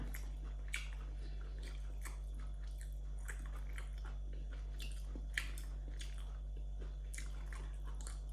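Bread and bacon eaten at breakfast, soft close chewing with small moist bites repeating over a steady low hum, faint and without talking.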